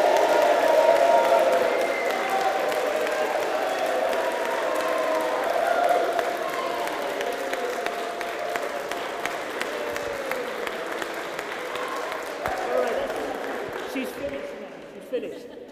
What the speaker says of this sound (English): can we give Keely a huge cheer and clap?